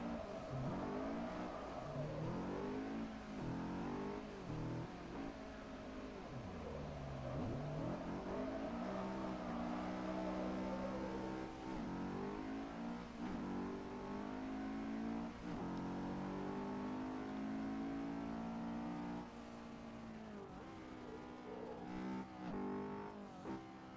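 A race car engine in a drifting video game revs high and falls repeatedly, whining up through the gears and dropping on downshifts, loud and steady with no talk over it.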